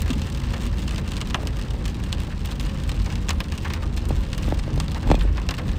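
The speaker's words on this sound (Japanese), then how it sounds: "雨が重なってます。" Steady rain pours during cherry blossom season in April, a dense, loud patter of drops on surfaces with scattered sharper splashes, continuous and without talk.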